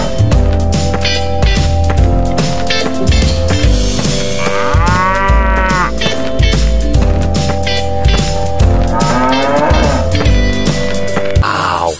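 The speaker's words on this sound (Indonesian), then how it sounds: "this is cow alias sapi" A cow moos in several drawn-out calls over a busy, tonal background that continues throughout, loud and close.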